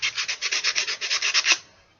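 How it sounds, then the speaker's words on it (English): Sandpaper rubbed by hand along the edge of a craft sword in quick, even back-and-forth strokes, about a dozen close scrapes ending in one firmer pass, with no talking. "I'm just gonna sand the edge a little."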